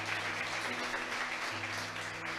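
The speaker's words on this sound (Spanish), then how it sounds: "Alguien le aplauda a Dios por esto" A church congregation claps in a steady, dense round of applause that fills the room at even loudness, with a low hum running underneath.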